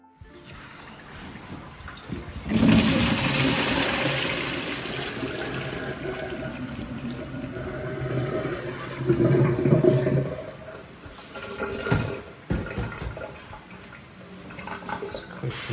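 Water running from a tap to rinse green pitted olives being preserved in brine at home, a sudden rushing stream that starts after a couple of seconds and continues steadily with splashing surges, close and fairly loud.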